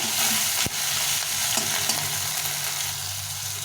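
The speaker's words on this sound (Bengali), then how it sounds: "সুন্দর করে ভেজে নিতে হবে এর মধ্যে সামান্য একটু লবণ দেবো তার টমেটোটা গলে যাবে নরম হয়ে যাবে টমেটোটা" Tomatoes frying with a little salt in a pan, a steady dense sizzle with a few sharp stirring clicks against the pan, close and loud with no talking.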